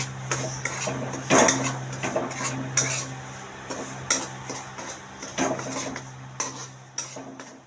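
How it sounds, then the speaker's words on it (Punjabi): A spatula stirs semolina roasting in a pan for sooji karah prasad, making repeated close metallic scrapes and clanks against the pan at an irregular pace with no talking. "ਥੋੜਾ ਥੋੜਾ ਇਹਨੂੰ ਹਲਾਉਂਦੇ ਰਹੋ ਕੁਰਚਨੇ ਨਾਲ"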